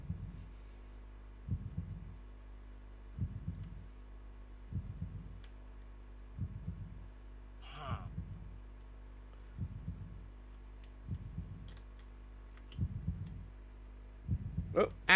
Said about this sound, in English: That's a very fast heartbeat.